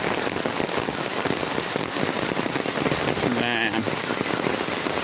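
Torrential rain pours down steadily and loudly, a dense, continuous hiss of heavy drops hitting surfaces and puddles, with a man's brief word heard under the downpour.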